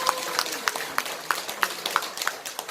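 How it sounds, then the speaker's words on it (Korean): A small audience at a Korean morning company meeting claps sparsely and rhythmically, faint single claps landing about three times a second in a quiet room. "그분들을 위해서 박수 한번 쳐주시겠어요?"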